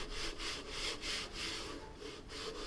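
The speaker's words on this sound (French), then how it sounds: "je passe un léger coup de cale à grain fin, surtout pour redresser le fil de surface du pain" A foam windsurf board blank is hand sanded with a fine-grit block in close, rhythmic back-and-forth strokes, about five to six passes, with no talking.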